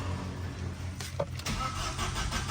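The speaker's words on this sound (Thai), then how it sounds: "รถสตาร์ทไม่ติด" A car engine cranks without catching, a steady starter whir with a brief catch partway through, recorded close up in a repair shop while checking for a fuel pump pressure fault.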